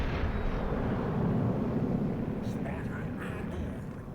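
The Yamato battleship's main guns fire at a Conqueror in World of Warships Legends, a loud, deep rumbling boom that rolls on and slowly fades, with a voice faintly present underneath.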